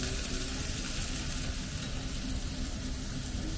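Eggplant sizzles and fries on a hot teppanyaki griddle at a home party, a steady close crackle that holds at one level throughout, with no talking.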